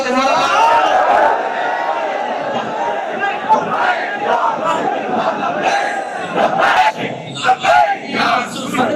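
A large crowd at a religious political rally loudly chants together in surging waves, voices blending into a continuous roar that rises and falls throughout.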